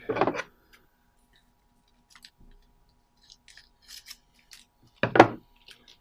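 Scissors snip a strip of painter's tape: a sharp cut at the start and another near the end, with faint small clicks and rustles of tape handling in between, close up in a quiet room.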